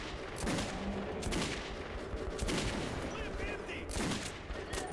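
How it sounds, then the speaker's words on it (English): A minigun firing in Metro 2033 Redux, rapid bursts of heavy automatic fire rattling in several waves, fairly quiet overall with game noise mixed around it. "Who is the bloke on that bloody minigun?"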